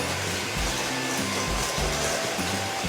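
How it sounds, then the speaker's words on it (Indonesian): An electric mixer beating eggs and sugar for a banana steamed sponge cake, a loud continuous motor whir with a rhythmic pulsing as the beaters churn through the batter. "Kita kocok sampai gulanya halus ya, sampai gulanya halus."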